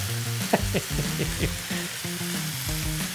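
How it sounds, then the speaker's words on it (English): Steak searing in neutral oil in a pan on an indoor stovetop, with a steady sizzle running throughout and a few louder crackles early on. "add some oil to the pan, neutral oil once again. We'll put down our steak."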